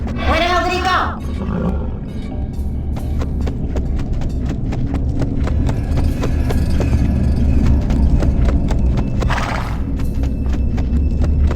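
In the video game Dead Head Fred, a horse whinnies loudly at the start, then its hooves clip-clop in a fast, steady run, with a second brief whinny near the end. All of it plays over a game background rumble.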